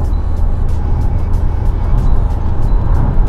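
An Isuzu 1.9 pickup truck engine pulls hard in fifth gear, revs climbing steadily in a continuous loud drone with no pauses.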